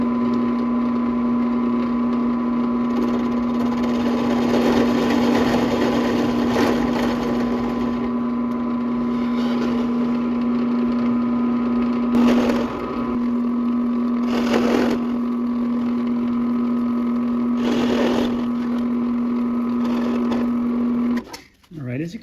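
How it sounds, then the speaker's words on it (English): A drill bores countersink holes for carriage bolts in a wooden wedgie sled jig, giving a steady, loud motor whine with intermittent bursts as the bit cuts into the wood. "we're going to go ahead and drill some countersink holes there that'll take our carriage bolts"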